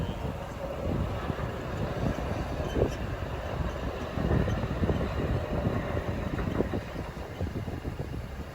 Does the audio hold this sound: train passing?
yes